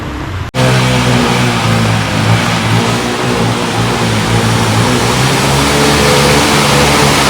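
A motorbike engine revving hard through flood water on a Kathmandu street, loud and close, a sustained droning roar that starts abruptly after a brief cut and holds steady throughout.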